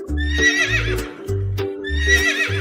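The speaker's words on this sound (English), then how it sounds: "the horse says" A horse neighs twice, each a loud, close, high whinny that wavers up and down, with low thumping between the calls.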